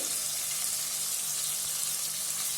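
Ginger garlic paste sizzling with softened tomatoes in a hot pan, a steady, even frying hiss throughout with no voices.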